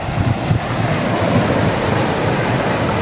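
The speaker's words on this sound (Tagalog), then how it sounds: "Ito yung alon na yun, no?" Ocean waves washing onto the shore, heard as loud, continuous broadband rushing with heavy low rumble and wind buffeting the microphone for about three seconds, with no voices.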